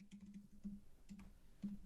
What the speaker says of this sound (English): I'm about to rant on something once I finish typing this in.